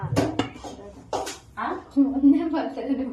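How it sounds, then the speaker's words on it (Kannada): Cooking pots and dishes being scrubbed in a home kitchen, with a few sharp metallic clinks and knocks of pans and utensils heard close up between people talking. "ನಾನು ಪಾತ್ರೆ ಉಜ್ತೀನಿ"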